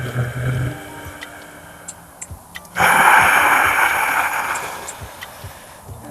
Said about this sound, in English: Nice slow breaths in and out of the nose.